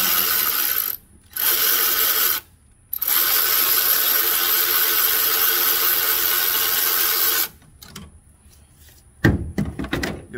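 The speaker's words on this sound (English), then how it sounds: "Get back out the adjustment screw," A ratchet backs out the adjustment screw on a 2014 Kia Soul alternator, loud fast clicking bursts in several long runs separated by brief pauses, ending with a few scattered knocks and clunks, no voices.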